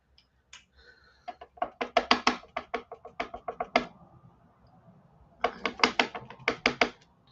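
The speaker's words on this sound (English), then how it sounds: "I'm just going to stamp it and cut it." A rubber stamp is pressed onto paper and the paper is cut, giving crisp close-up taps and clicks in two quick clustered bursts separated by a short pause, with no talking.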